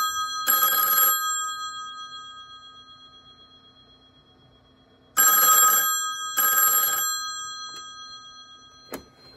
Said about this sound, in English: So I adjusted the ringer volume.